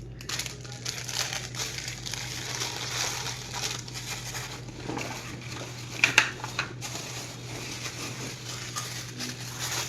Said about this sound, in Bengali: দেন খুলছি এই প্যাকেটটা।